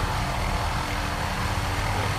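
Cowansim 500E helicopter in Microsoft Flight Simulator, flying near a helipad in Maine, a dense continuous turbine whine and rotor drone, loud and steady with no pauses.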